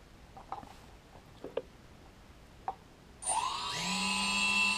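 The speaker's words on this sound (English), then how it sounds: "you can see the motors don't all come on at the same time" Multirotor copter motors spin up after arming, starting a beat apart and then rising into a loud, steady layered whine with rising pitch, after a few quiet taps and clicks; no speech.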